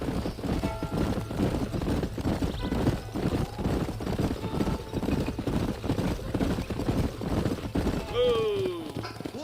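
Horses' hooves clip-clopping steadily in Red Dead Redemption, a dense rhythmic trot from several riders under murmured voices, ending with a clear neigh.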